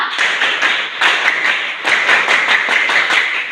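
A class of junior high students at SMP Negeri 2 claps in unison, a sharp rhythmic pattern of quick repeated claps with brief pauses between groups, loud and close with no talking.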